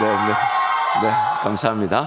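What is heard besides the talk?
No everyday noise stands out behind the speech.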